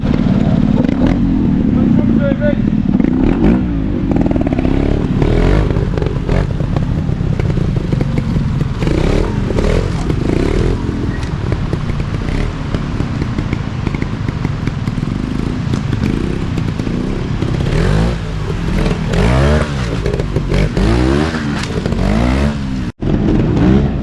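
Trials motorcycle ridden at Hooton Lodge during a Barnsley trials club event, its engine revving and clattering loudly and close throughout, with scraping and crackling over rough ground and speech mixed in.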